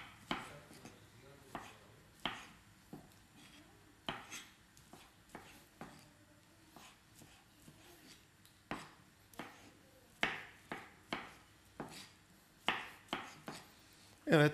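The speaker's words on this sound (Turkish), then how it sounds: "hoşaflarımızın kayısını doğrayıp hazırladık" A knife chops dried apricots for a Turkish fruit compote on a cutting board, in irregular crisp taps, some in quick runs, faint and close, with a few soft kitchen rubbing noises.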